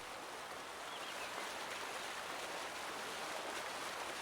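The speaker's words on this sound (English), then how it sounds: "There's flowing water." Steady flowing water at a pig barn on a Farming Simulator 19 farm map, a constant broadband rush with no breaks, even and fairly loud throughout.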